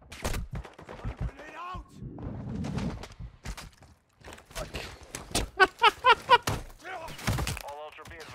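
Gunfire in a DMZ video-game match: a burst of rapid sharp shots sounds mid-clip, with scattered single reports and thuds around it, mixed under someone talking.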